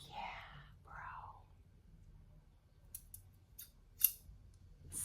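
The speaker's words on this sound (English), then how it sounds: "Some real shears." A pair of real shears being handled: a few sharp, quiet snips and metallic clicks follow a soft whispered voice.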